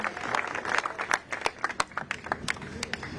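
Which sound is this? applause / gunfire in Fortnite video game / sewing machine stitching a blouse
applause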